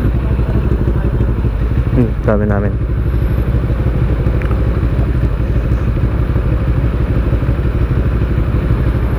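A CFMoto NK400 motorcycle engine, freshly serviced with an oil change, runs loud and close with a steady rumbling drone throughout, and a brief clattering rattle comes partway in. A voice speaks briefly over it.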